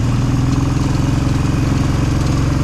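A quad bike engine rumbles loudly and steadily up close, a throbbing, pulsing drone with a slight rise in throttle.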